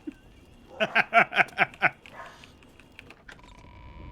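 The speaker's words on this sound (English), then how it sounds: "I wonder if people can hear Evie barking in the background" A pet dog barks in the background of a home during an online game session, giving a quick burst of about six sharp barks, then keyboard clicks and quiet sounds follow.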